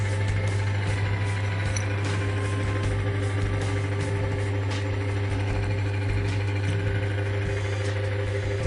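A car engine idles steadily after an oil additive engine treatment was poured in with the motor oil, a continuous low rumble with a constant hum and faint ticking, close and unchanging throughout.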